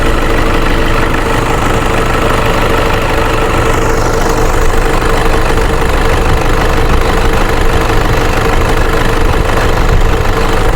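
Toyota Hilux double-cabin diesel with a V automatic 4x4 drivetrain runs close and loud, a steady rough diesel drone with knocking texture and no clear rise or fall in pitch.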